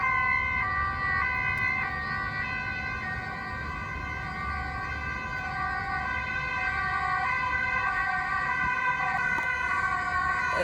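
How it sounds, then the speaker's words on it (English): A steady wailing ambulance siren sounds throughout in Rotterdam during a neighborhood fire, its held tones drifting over a constant low rumble of road traffic, with no voices. "there's a fire in the neighborhood and now it's the ambulance"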